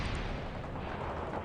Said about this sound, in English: Launching missile now!